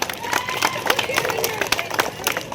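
Applause and cheering from the audience at a village rangoli competition prize announcement in Ronuru, Srinivasapura, a dense run of claps with crowd murmur throughout.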